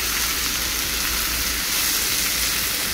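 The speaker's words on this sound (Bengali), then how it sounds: "আর এবার কেটে রাখা ঝিঙেগুলো দিয়ে দিলাম।" Chopped ridge gourd frying in a pan with green chillies and black cumin, giving a steady, dense sizzle that hisses evenly throughout without talk.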